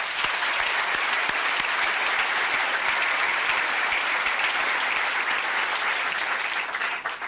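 Sustained audience applause fills a business gathering in Santiago de Cali, Colombia, a dense steady clapping that runs loud and even for about seven seconds before easing slightly at the end.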